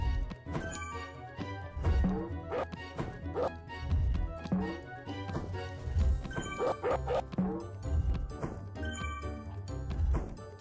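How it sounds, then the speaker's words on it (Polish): Several dogs bark repeatedly in the Mr. Bean PS2 video game, short bow-wow yaps recurring every second or two over steady background game music with light jingling tinkles. "oczywiście na psa mamy uważać. A raczej na psy, bo jest ich więcej niż jeden"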